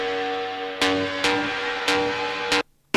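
A bright, buzzy synthesizer lead from an industrial techno track, heard as sustained harmonic tones hit by loud broadband transients at a steady pulse, cutting out briefly near the end.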